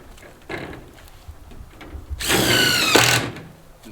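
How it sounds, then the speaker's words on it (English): A power drill drives metal roofing screws into a greenhouse panel, with light handling knocks followed by a loud, close whirring burst of the drill lasting about a second. "I'm going to show you how I screw this just like doing metal roofing"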